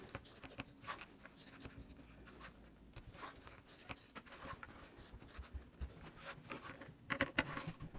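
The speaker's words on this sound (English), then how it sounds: "Take your fabric scissor and cut along those lines." Fabric scissors cutting through cloth along drawn lines, a close, quiet series of soft snipping and rasping strokes in an irregular rhythm.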